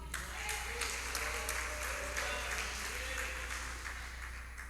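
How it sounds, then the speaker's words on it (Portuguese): A church congregation applauds with steady, faint clapping that sounds distant and blurred, with a voice faintly underneath. "Você pode dar uma salva de palmas para ele?"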